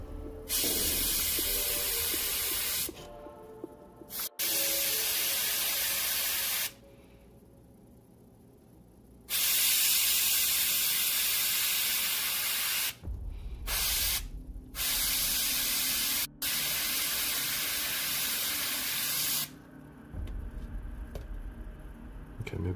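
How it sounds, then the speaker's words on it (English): An airbrush sprays metallic paint onto a dark, black-based miniature model in several loud hissing bursts separated by short quiet pauses, close up with no talking. "Okay, maybe I shouldn't airbrush those because it's spreading a bit too much, more than I'd like."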